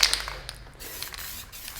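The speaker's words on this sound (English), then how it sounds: "give it a nice light spray along this edge" Light spray adhesive hissing along the edge of a studio V flat panel, a short airy burst at the start followed by softer continuous spraying, close by with no talking.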